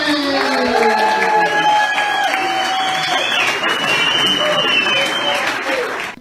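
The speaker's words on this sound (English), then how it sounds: "Give it up for number 25, Darren McCarty" A sold-out crowd in a small 150-seat venue applauds and cheers for a former Detroit Red Wings hockey player at a comedy tour show; dense, loud clapping with whoops and shouts holds for about six seconds, then cuts off.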